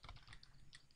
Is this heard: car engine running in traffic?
no